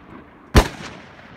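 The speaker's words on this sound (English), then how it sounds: "Well, he shot it with no problem." A single sharp gunshot from a firearm at an outdoor shooting range in Foresthill, loud and close, with a short decaying tail and no talk over it.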